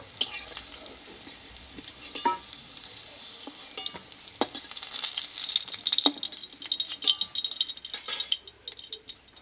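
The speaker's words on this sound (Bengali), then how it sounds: "বেগুনটা কিন্তু ভালোভাবে আমি তেলে কষিয়ে নিয়েছি" Eggplant frying in mustard oil for a Bengali eggplant and hilsa dish: close, crackling sizzle with sharp spoon clicks and scrapes, rising and falling as it is stirred.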